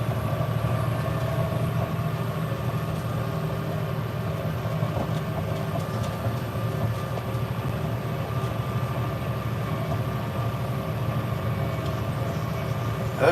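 A tractor engine runs steadily while baling hay in the evening, giving a continuous, even low rumble with a faint mechanical hum over it. No one speaks.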